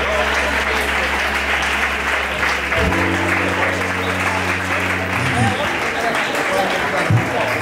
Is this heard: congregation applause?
yes